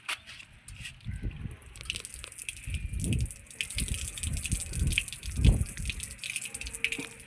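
Water being drawn from an old well on Rameswaram island, with repeated splashing gushes and dripping pours at an irregular rhythm, fairly close and moderately loud, with no speech.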